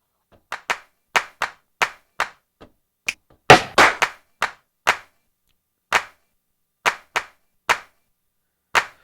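Sharp, sampled hand claps for a drum beat ring out one at a time, roughly evenly spaced, with a brief flurry of louder, overlapping claps in the middle and silence between hits.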